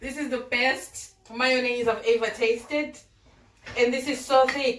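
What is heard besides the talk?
No everyday noise stands out behind the speech.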